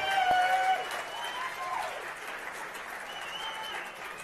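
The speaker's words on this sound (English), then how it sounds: "Please make a big round of applause" Steady crowd applause fills a year-end banquet hall, a broad, even wash of many hands clapping at moderate volume with no speech over it.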